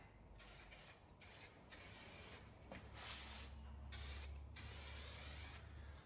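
A spray gun laying a wet coat of paint on a Ford Sierra car part, heard as close, loud hissing bursts with short pauses between passes and a low hum underneath.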